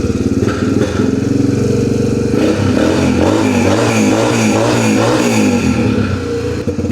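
A Ski-doo snowmobile engine repaired with generator parts runs loud and close, a rough, rattling two-stroke buzz that surges and revs unevenly, with no voices over it.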